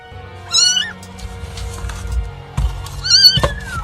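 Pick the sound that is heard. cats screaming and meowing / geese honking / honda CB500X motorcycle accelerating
cats screaming and meowing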